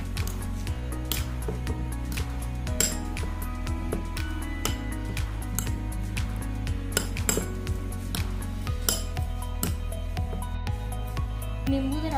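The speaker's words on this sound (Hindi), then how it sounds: "प्याज, हरी मिर्च, इन्हें मिक्स करना है।" Chopped onion and green chili mixed with tomato in a bowl, heard as a long run of spoon clinks and scrapes against the dish in an irregular rhythm, close up and without speech.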